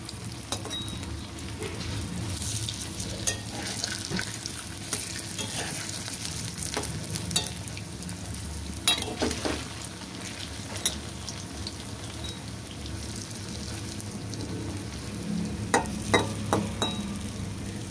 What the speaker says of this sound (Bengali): এক পাশ ভাজা হয়ে গেছে, আমি এবার এটাকে উল্টে দেবো।